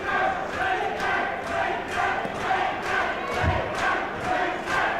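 A boxing crowd roars in rhythmic surges, chanting and cheering to drive on boxer Lincoln Stewart, with the swells pulsing steadily throughout.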